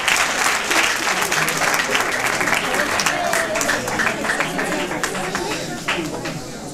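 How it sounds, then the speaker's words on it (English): A school audience at a career guidance and motivation event applauds, a dense wash of many hands clapping loud and close for several seconds, slowly thinning toward the end with a few voices mixed in. "can you please give yourself a round of applause?"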